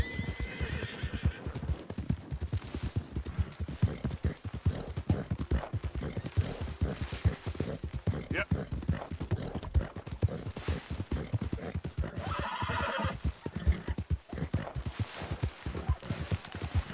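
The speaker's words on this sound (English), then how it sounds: "Man, look at all these pretty horses." Horse hooves in a video game clip-clop steadily in a continuous walking rhythm, with occasional neighs and whinnies rising above the hoofbeats.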